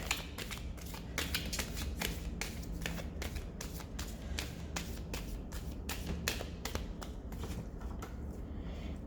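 Tarot cards being shuffled by hand, a steady run of crisp riffling flicks and soft papery slaps repeating close up for several seconds, no voices over it.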